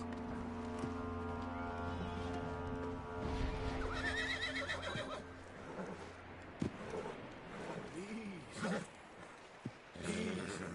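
A horse in Red Dead Redemption 2 whinnies loudly and at length, followed by snorts and shorter neighs, over a steady low background hum.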